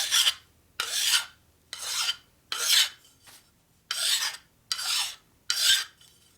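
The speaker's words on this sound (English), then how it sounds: "So grab a nice fine file." A fine hand file rasps across metal to deburr an edge, seven even, close strokes with short pauses between them.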